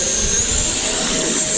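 An FMS Viper 70mm electric ducted-fan RC jet roars at full throttle on takeoff, a loud steady high-pitched whine with a rushing airflow underneath, close and continuous.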